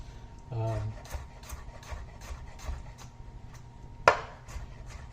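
A knife slicing garlic thin on a cutting board, soft repeated rhythmic chopping taps close by, quiet, with one sharper knock near the end.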